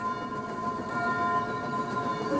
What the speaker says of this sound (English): James and his train arrived safely.